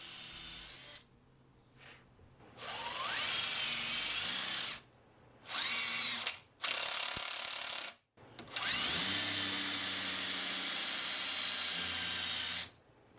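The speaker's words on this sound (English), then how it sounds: "I could drill the holes for mounting the breast hook" A drill countersinks screw holes for silicon bronze screws that mount a wooden boat's breast hook. It whirs in several close bursts of varying length separated by short pauses.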